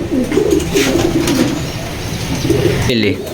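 A racing pigeon coos in a loft, with low, rolling coos heard up close while someone talks over them.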